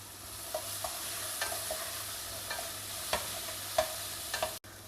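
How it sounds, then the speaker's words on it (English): A spoon stirs chickpeas, golden dals and grated coconut in a pan of sundal as they stir-fry, its soft scraping taps landing at irregular intervals over a faint steady sizzle. "Stir fry everything together and your sundal is done and ready."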